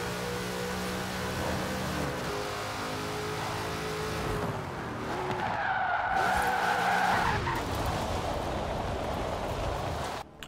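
A powerful sports car engine in Forza Horizon 4 roars and revs as tires skid and squeal loudly for several seconds, then the engine note settles.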